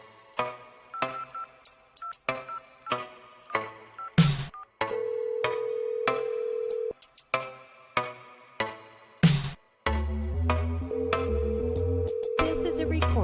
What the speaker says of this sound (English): Taking old phone noises. A lot of people don't remember the busy signal or ever dealt with one.